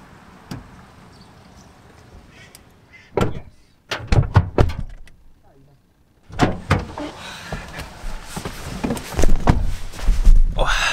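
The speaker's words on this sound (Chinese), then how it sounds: "关门。" A door is shut on a rainy day as a family leaves home, giving a few solid thunks and knocks against steady background patter, then a busier stretch of clattering movement.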